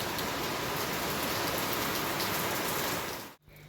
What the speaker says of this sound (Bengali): সকাল সকাল কেমন বৃষ্টি নেমেছে